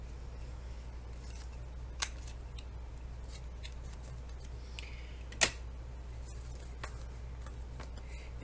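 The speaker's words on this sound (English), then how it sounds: "this I can just trim with a pair of scissors" Paper being trimmed with a pair of scissors during a folio craft project: two crisp, isolated snips, the second louder, set against a quiet, steady room hum.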